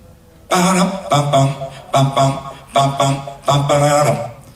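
Unaccompanied singing voice in repeated phrases with short gaps, clear and close, no instruments underneath.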